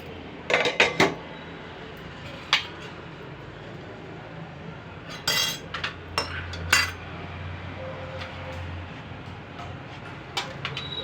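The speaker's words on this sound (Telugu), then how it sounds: "మళ్ళీ మూత పెట్టుకున్నాము" Metal pot lid set back onto a cooking pot while making Telugu pappu pulusu, giving a few sharp clinks and clatters of metal cookware, moderately close, with quiet kitchen background between.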